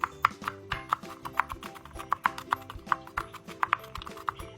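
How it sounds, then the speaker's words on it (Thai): A knife minces garlic on a cutting board with quick, uneven taps and sharp knocks, steady and close, over soft background music. "หั่นเสร็จเรียบร้อยแล้วนำมาสับเป็นชิ้นเล็กๆ"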